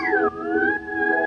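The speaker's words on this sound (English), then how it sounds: "There's these sounds which are some DX7 that I cut up" Short choppy DX7 synthesizer tones with gliding, bell-like pitches, cut into three quick segments that start and stop abruptly.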